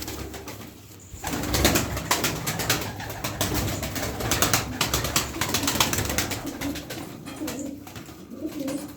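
Pigeons coo steadily in an enclosed space, soft repeated throaty calls layered over a busy background of shuffling and faint wing flutters.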